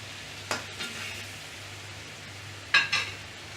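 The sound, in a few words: onion added to frying mutton in coconut milk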